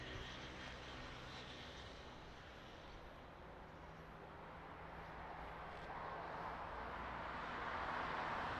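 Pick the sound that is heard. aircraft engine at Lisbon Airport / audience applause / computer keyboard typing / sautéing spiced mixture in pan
aircraft engine at Lisbon Airport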